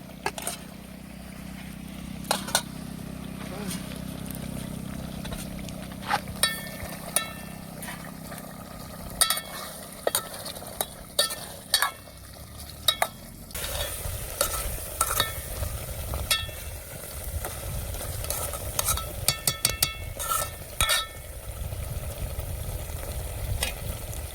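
Rice and tomato frying in a pan outdoors in a jungle setting, a steady sizzle throughout with frequent sharp scrapes and clinks of a spoon stirring, growing denser and louder toward the end.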